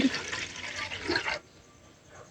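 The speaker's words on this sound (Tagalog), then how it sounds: "sa isang kasirola maglalagay po ako ng tubig" Water streams into a saucepan in a close, splashing pour lasting just over a second, then stops and leaves near quiet.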